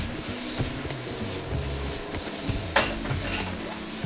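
Tofu being tossed in tamarind sauce in a wok for chicken pad thai, with scraping utensil strokes and clattering metal over a soft background sizzle and one sharper clank near the end.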